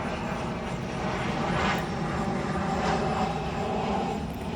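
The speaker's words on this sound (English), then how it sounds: "Sorry about the plane going over." A propeller airplane passes overhead, a loud steady drone swelling and easing across the moment above a fall vegetable garden, with no talking.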